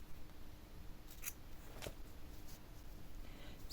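Scissors snip through yarn while a simple skirt is being crocheted, giving two quick, faint cuts about half a second apart over a quiet room.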